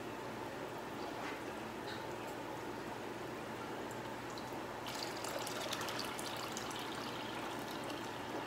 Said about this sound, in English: Just adding fresh, same temperature, dechlorinated tap water right in there.